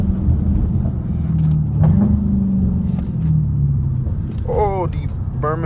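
A straight-piped Dodge Hellcat drives along city roads, its loud exhaust rumbling steadily with revving surges heard from inside the car, while people talk over it.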